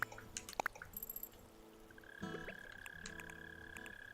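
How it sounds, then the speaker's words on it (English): A mole cricket chirps in a video game at night: a steady, high, buzzing trill starts partway through and continues to the end, with croaking frog-like calls and soft drips earlier in the quiet ambience. "Oh, look, I hear a mole cricket already."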